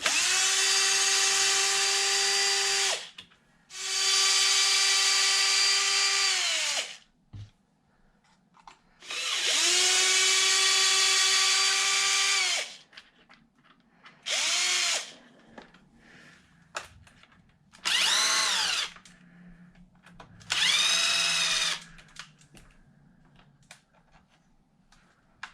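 A power drill backs the bulkhead screws out of a Traxxas XRT RC truck, whining loudly in several long and short bursts with brief pauses between them, each run ramping up and winding down, with no talking.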